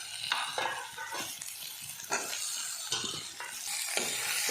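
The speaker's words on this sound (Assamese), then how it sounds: "বিলাহীটো অলপ ভাজি লওঁ" Tomatoes frying in a pan for an Assamese pork curry give a steady close sizzle, broken by repeated scraping stirs of a spoon against the pan.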